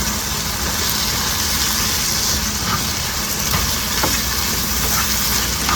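A fajita filling with homemade taco seasoning and garden vegetables sizzles steadily in a pan, a dense continuous frying hiss with a few light clicks and no talking.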